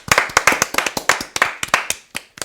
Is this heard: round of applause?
yes